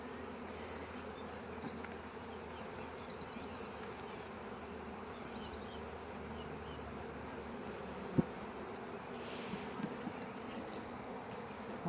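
Honeybee colony buzzing steadily while being moved into a new hive box in spring, a continuous moderate drone of many wings throughout, with one sharp knock near the end.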